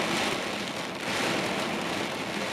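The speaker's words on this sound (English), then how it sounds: "Raining really hard." Heavy rain pouring down in a dense, hissing wash that stays loud and steady throughout, with no voices.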